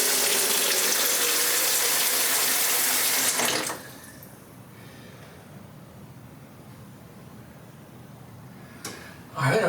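A kitchen tap gushes loudly with a steady broadband rush for a few seconds, then shuts off, leaving a quiet room; a brief burst of water returns at the end.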